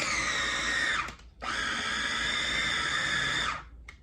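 A food processor pulses a vegan burger mixture in two loud, steady whirring bursts, the first about a second long and the second about two seconds, with a brief pause between them and a short clack at the end.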